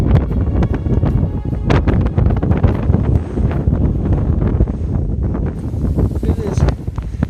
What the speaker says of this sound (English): But this wind's so strong.